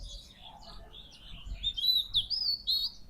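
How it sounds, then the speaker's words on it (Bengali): A myna calls in a garden beside a bamboo grove, giving a run of shrill, chattering notes that grow louder toward the end, with a faint lower bird note earlier and no talk. "এটা শালিকের ডাক,"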